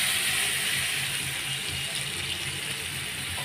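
Water pours into a paneer curry as it cooks in a home kitchen, giving a continuous, fairly loud hissing splash with faint clinking underneath and no talk.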